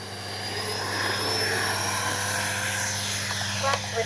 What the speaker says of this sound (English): Mary, you want to ease into your throttle with this one.